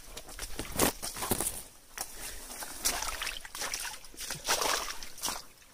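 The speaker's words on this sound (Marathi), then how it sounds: "हा ना पावसातला प्रवाह आहे पाण्याचा" Rainwater running in a stream during a downpour in rural Konkan, with someone wading through it: repeated sloshing steps and trickling water, close and moderately loud, with no talking.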